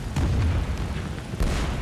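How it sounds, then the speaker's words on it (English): Heavy 88mm flak cannon shells strike a tank in War Thunder: deep, rumbling booms roll through the full short stretch, with sharper bursts near the start and again toward the end, loud and dense with no talk. "88mm flak cannons"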